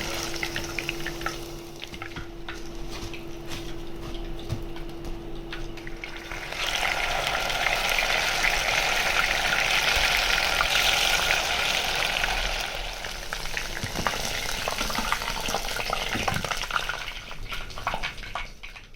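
Chicken pakoras sizzle in hot oil as they deep-fry, the bubbling crackle growing louder partway through and then easing, with faint clinks of utensils nearby.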